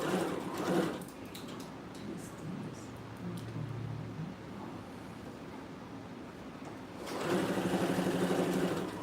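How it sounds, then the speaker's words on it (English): Sewing machine stitching a garment lining, a steady mechanical drone that runs for most of the span with louder bursts at the start and end. "let me finish stitch the lining now. I'm gonna stitch the lining."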